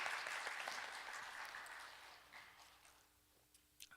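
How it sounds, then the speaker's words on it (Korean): Congregation applauding in a church after a worship choir's praise, a dense wash of clapping that is fairly faint and slowly fades over four seconds, with a few scattered claps near the end. "우리 격려의 박수 한번 할까요?"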